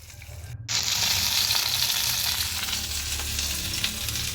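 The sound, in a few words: fish frying in a pan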